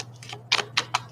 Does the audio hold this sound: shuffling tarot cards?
yes